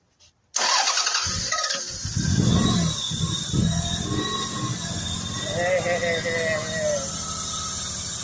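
A Toyota 1MZ-FE V6 cranks and fires on starting fluid with no fuel supplied, catching after a short silence and running loud and rough near the listener, with revving surges and a whining squeal over the steady engine noise.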